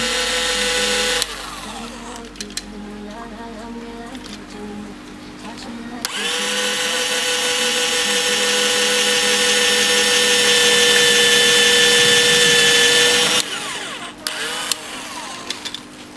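A power drill whines steadily for several seconds drilling into a die-cast metal toy car body, rising into a sustained high-pitched grind, with brief pauses and shuffling before and after.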